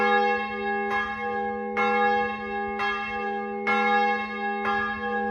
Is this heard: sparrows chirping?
no